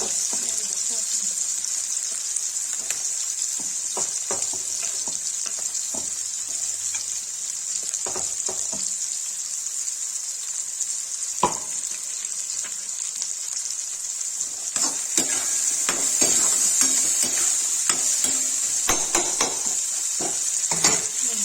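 Onions sizzle and fry steadily in a pan for Kashmiri rajma, a constant hiss with occasional stirring clicks and scrapes, growing a little louder near the end, with no voice.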